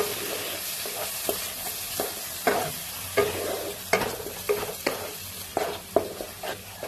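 Whisked sour yogurt stirred into frying masala in a pan for cauliflower korma, a steady background sizzle broken by repeated scraping stir strokes at an irregular pace, fairly close.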